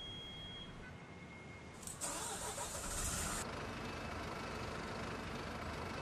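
A Marcopolo Senior MIDI Agrale MA 15.0 bus engine starts in the OMSI 2 simulator: a cranking burst around two seconds settles into a steady, moderately loud diesel idle with no talk.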